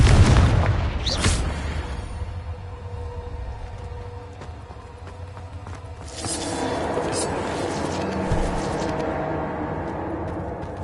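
Bombarda and Confringo spell blasts in Hogwarts Legacy, a heavy boom at the start followed by rumbling, crackling explosions that swell again midway, with a voice casting the spells over them.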